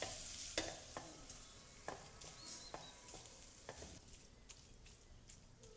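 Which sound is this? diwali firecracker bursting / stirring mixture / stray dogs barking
stirring mixture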